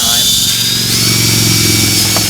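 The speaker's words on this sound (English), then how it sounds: "it should drill right through, and then your rivet will come right off." Power drill boring out plastic rivets on ATV quad body panels, a loud continuous whining motor drone with a faint rising pitch throughout, close to the microphone.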